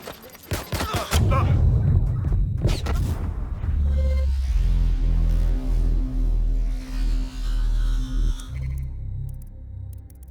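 A frag grenade blast in Watch Dogs Legion, with sharp bursts of rapid gunfire up front and then a loud, sustained booming rumble that lingers with a low hum and scattered crashes.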